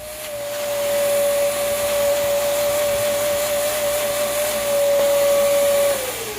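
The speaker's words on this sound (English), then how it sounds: "Now we'll use our vary bit to enlarge this to 3/4 based on the size of our snap." A drill fitted with a step bit enlarges a hole in plastic to three-quarter inch for a car trunk false floor, giving a steady whining drone that runs about five seconds close up and then winds down.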